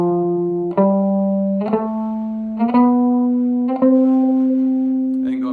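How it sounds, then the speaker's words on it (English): Guitar plays a major scale on a single string, each note picked and held about a second with a slide up to the next pitch, clean and sustained, close and steady with no talking. "So that major scale going up and down on the guitar sounds like this,"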